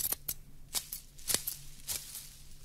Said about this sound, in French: saisit une paire de ciseaux de la main droite et